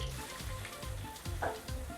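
Steady sizzling of blended onions frying in hot oil, with soft rhythmic stirring pulses underneath, close by and moderately quiet.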